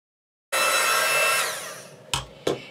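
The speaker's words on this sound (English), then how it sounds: "heat emboss this." A heat gun for heat embossing a stamped card blows with a sudden, steady close whoosh of hot air that fades slightly, followed by two brief knocks.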